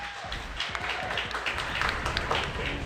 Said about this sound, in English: Yes, the crowd goes crazy.